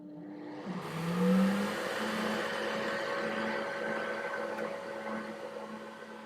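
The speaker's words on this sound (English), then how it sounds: "it says it's drawing the pattern and that it's going to take about a minute" A laser cutter drawing its camera calibration pattern, a steady motor whir with a sustained tone that starts after a brief shift in pitch and keeps going, faint and without speech.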